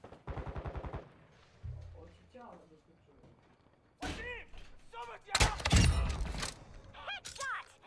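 Video game gunfire comes as a quick rattling volley of rapid shots, then a louder, denser burst later on, mixed with thuds and spoken voices through most of the stretch.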